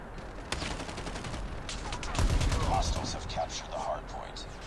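Rapid bursts of Call of Duty Mobile gunfire from a Hardpoint or Search and Destroy match, several shots cracking out in quick clusters, with a player talking faintly over the action.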